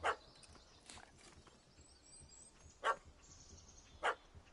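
Dog barking in The Witcher 3 during Heart of Stone, three short sharp barks spaced apart over faint ambient game background, with no talking.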